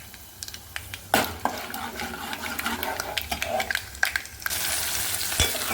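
Cumin, mustard seeds and dried red chillies fry in hot oil for a tempering, a close, steady sizzle scattered with sharp pops and crackles that swells louder near the end.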